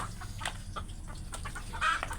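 Chickens cluck in short scattered calls close by in a backyard flock, with one louder squawk near the end.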